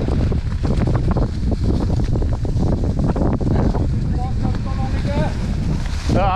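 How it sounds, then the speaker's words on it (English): Strong wind roars and buffets the microphone during a mountain bike ride, a loud, continuous rush with voices speaking briefly over it. "I can't hear it because of the wind"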